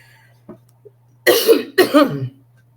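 Two harsh, close coughs in quick succession come from a woman reading aloud at a study group, preceded by a faint throat sound against a steady low hum.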